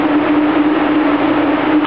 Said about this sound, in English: by taking the subway here